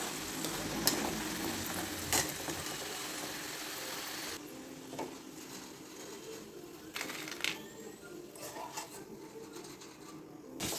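French fries fry in hot oil, giving a continuous soft sizzle and crackle with occasional faint clinks of stirring, steady and moderately close throughout.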